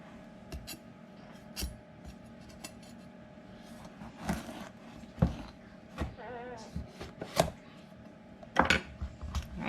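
A very sharp knife is worked through a pumpkin to halve it, giving scattered close scraping and knocking sounds against a board, with brief creaks as the blade pushes through the flesh.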